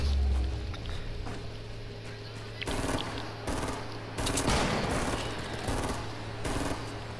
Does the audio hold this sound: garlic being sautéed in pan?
no